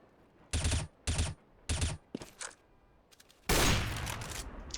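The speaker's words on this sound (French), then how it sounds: "il va tomber sous les balles de Dozia" Bursts of automatic rifle fire in a Counter-Strike match, three sharp volleys followed by scattered shots and then a sustained loud burst, all with no talk.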